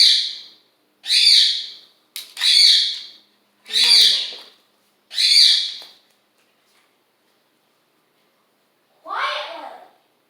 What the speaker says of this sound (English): I apologize for the parrot screaming.